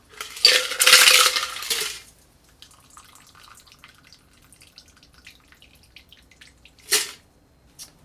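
Double straining a Milanese Breakfast Martini into a chilled coupe: a loud burst of ice rattling and liquid pouring through the strainer for about two seconds, then quiet small clinks and drips, and a final sharp glassware clink.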